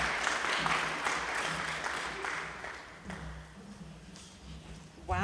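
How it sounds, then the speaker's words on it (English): Audience at a science forum applauding, dense clapping that gradually thins and fades over about five seconds, moderately distant. "I think we need to give that another round of applause"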